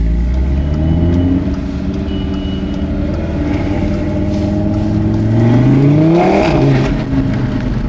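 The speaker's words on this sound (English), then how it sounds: "You can hear the diverter valve up front. You can hear the exhaust." An Audi RS3 driving past, its loud exhaust rumbling and rising in pitch as it accelerates, with the diverter valve whooshing near the end; no talk.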